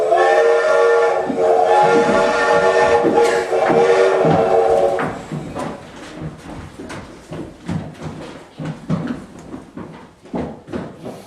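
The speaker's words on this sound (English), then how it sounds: "just in time to see the train pull away from the station" A steam train whistle blows loudly, then gives way to rhythmic chuffing and clanking as the train pulls away from the station, puffs spaced unevenly and fading slightly.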